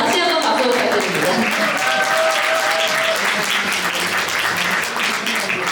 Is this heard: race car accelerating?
no